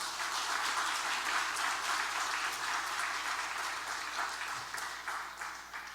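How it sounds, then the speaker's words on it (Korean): A church congregation applauds during a Thanksgiving Sunday worship service, a dense, even roar of many hands clapping that holds steady and then fades slightly toward the end. "박수 한번 해주시죠."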